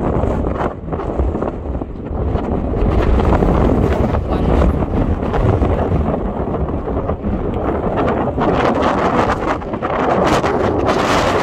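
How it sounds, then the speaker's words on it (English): Strong wind on a Scottish Highlands hilltop roars steadily and loudly, buffeting the microphone with continuous rumbling gusts and no pauses. "So it's so windy here."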